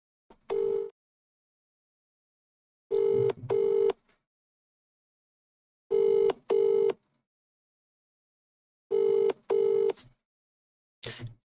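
A telephone ring repeats in evenly spaced double bursts with long silent pauses between, clear and steady, preceded by a brief dialing tone.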